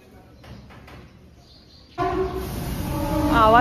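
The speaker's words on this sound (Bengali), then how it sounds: "ট্রেন না, এটা যাচ্ছে মালগাড়ি।" After a quiet stretch, a freight train passing in front of a house bursts in suddenly, loud and close, with a rumbling roar and a blaring horn that grows stronger as it goes by.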